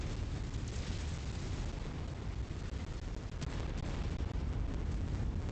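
Orbital gun strikes pounding a target in the modded MechWarrior 5: Mercenaries game, a dense, continuous roar of booming explosions and rumbling blasts filling the whole stretch, with a few sharper bursts standing out and no talking.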